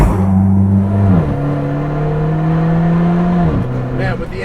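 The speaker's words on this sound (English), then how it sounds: "with the engine right behind your head, you hear so much of everything, from the boost to the exhaust" Tuned Alfa Romeo 4C with turbo and straight-pipe exhaust, mid-engine droning loud and close from inside the cabin, pitch stepping between steady gears with a shift near the middle and another late.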